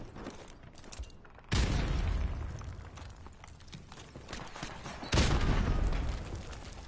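Grenade blasts in a first-person shooter video game: two sudden, loud booms about four seconds apart, each rumbling and fading slowly over a bed of quieter gunfire and game noise.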